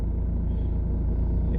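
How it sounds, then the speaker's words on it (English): A 2005 Ford Mondeo Mk3 2.2 Ghia X engine idles with a steady, close, low rumbling purr that runs unbroken throughout. "You can hear the engine now purring."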